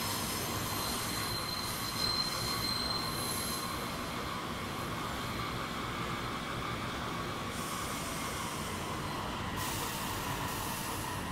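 A metro train in the Roblox game Terminal Railways rolls along with a continuous metallic rumble and high wheel squeal, sustained and fairly loud throughout.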